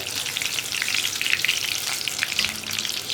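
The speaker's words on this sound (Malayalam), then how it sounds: "നമുക്ക് 2 സൈഡിലേക്കും തിരിച്ചിട്ടിട്ട് ഫ്രൈ ചെയ്തെടുക്കാം." Large green chilli bajji frying in hot oil, a dense, steady crackling sizzle close by with fine popping bubbles throughout and no talk.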